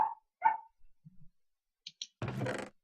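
Two dogs bark in short separate bursts, a few sharp yaps spaced apart with quiet gaps between, then a denser rustling noise near the end.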